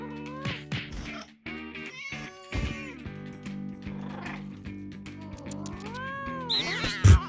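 Gene the cat meowing in the No More Heroes 2: Desperate Struggle video game, a string of clear, close meows and drawn-out cries over steady game music, with a loud squeal near the end.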